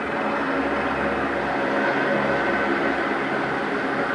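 A helicopter passing low over a downtown Chicago street, heard from inside an office tower as a loud, steady broadband rotor and engine roar that fills the whole span without fading, with no talking.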